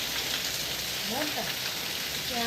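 Heavy rain falls in Junagadh, a dense, steady hiss of drops striking surfaces with no break. Faint voices can be heard beneath it.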